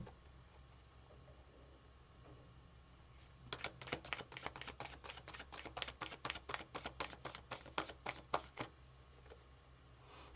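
A deck of cards being riffle-shuffled nearby, a rapid run of crisp flicking clicks lasting several seconds after a quiet start.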